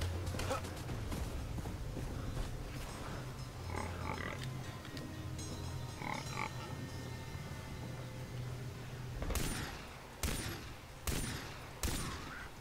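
Gunshots in the video game Far Cry, a few sharp loud reports near the end following a stretch of low game ambience with faint chirps, no speech over them.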